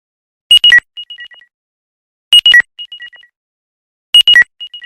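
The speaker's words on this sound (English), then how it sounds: "if you misplaced your phone and you can't find it in your couch, in your sofa, so you can click on play sound" A phone plays a loud electronic ringtone triggered remotely by a find-my-device feature, three identical bursts of shrill chirping tones repeating every two seconds, close and alone.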